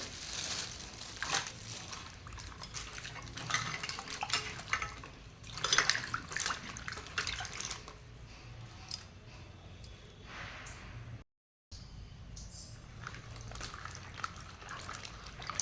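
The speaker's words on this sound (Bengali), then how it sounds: "কুঁদরিগুলো জলে দিয়ে দিচ্ছে, ভালো করে ধুয়ে নেব।" Ivy gourds (kundru) are swished and washed in water, with soft splashing and light knocks that come in small clusters, quiet and close, and then fade to a faint wet background.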